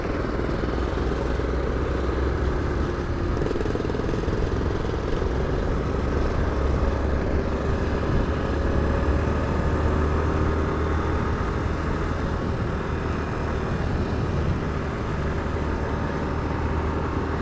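A BMW F650GS dual-sport motorcycle rides along a dirt road, its engine giving a steady, continuous drone mixed with road and wind rumble, moderately loud throughout with no talking.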